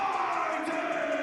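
Indoor crowd murmur and chatter filling a gym before a girls basketball game, Vilonia at Jacksonville, steady and moderately loud, brief.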